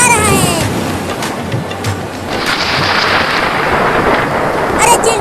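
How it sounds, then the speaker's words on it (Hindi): Steady heavy rain roars close by, broad and hissing, with a low rumble of thunder rolling underneath. "देखो कितना बादल गरज रहा है।"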